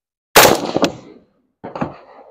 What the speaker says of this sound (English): All right, we're going to do 30 rounds at the second target.